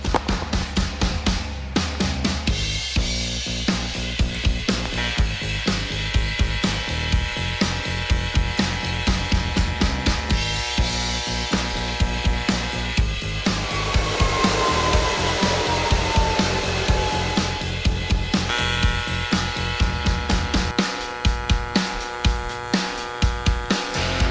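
Multimatic welder running on 1/8 inch steel at its auto-set plate setting with the amperage nudged slightly up, while building a TIG torch holder; a steady, close, harsh crackling buzz carries on almost unbroken for the whole stretch, with no talking.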